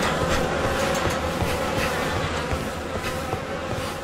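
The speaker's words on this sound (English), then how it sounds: "The air is heavy with the stink of rot and the buzzing of those damned insects." Dense insect buzzing fills a swamp-like area in the video game The Fidelio Incident, a steady, loud drone that never lets up, laced with faint clicks and no voices.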